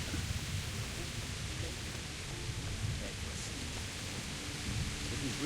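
A thunderstorm in the video game Kingdom Come Deliverance, with steady heavy rain hiss and low rolling thunder rumbling continuously underneath.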